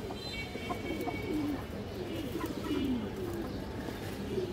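Pigeons coo in a soft repeated series of low rolling calls, fairly close but quiet, over faint background hiss with no talk.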